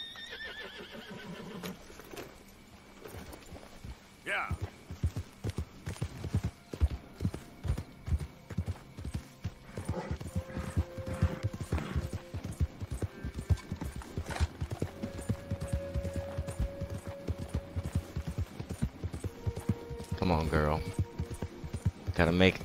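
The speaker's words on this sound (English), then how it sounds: "Gotta make it there fast as possible so the people don't have to watch this long horse ride." A horse gallops steadily in Red Dead Redemption 2 on Xbox One, hooves pounding in a fast, even rhythm throughout, with an early whinny and someone talking now and then over the hoofbeats.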